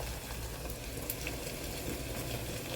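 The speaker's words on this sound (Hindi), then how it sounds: "अदरक लहसुन का पेस्ट डाल के हम थोड़ी देर पका लेंगे ताकि इसका कच्चापन दूर हो जाए।" Ginger garlic paste fries in a pan for a keema baingan dish, giving a dense, even sizzle with soft stirring scrapes throughout and no talking.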